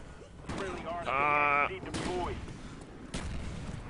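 Gunfire in Call of Duty Black Ops on PC, a few sharp shots punctuating a busy game soundscape, with a brief tonal effect and a voice-like sweep in between.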